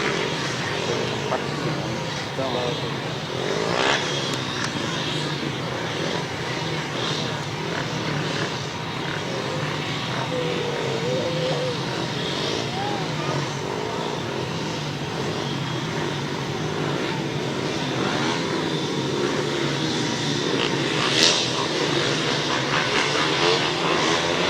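Grasstrack motorcycles racing in a championship heat on an outdoor grass oval: a continuous loud, droning engine roar from several bikes sustained throughout, rising and falling slightly as they pass, with no talk over it.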